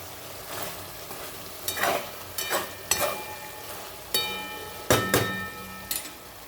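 Mutton cooking on a stove with masala, sizzling in the pan under a constant soft fry, broken by sharp scraping stirs of a spoon against the vessel every second or so, close and fairly quiet.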